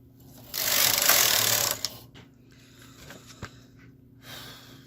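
A KH 230 knitting machine knitting a garment gives one loud rasping swoosh as the carriage slides across the needle bed, followed by softer clicks and knocks.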